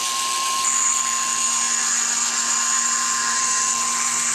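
An old Fordham rotary tool grinds a bevel onto an edge in a machine shop, a steady high-pitched whine with a constant tone that stays level and close throughout.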